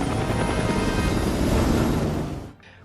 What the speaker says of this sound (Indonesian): mereka membuat rencana dadakan dengan menggempur wilayah itu menggunakan pesawat pengebom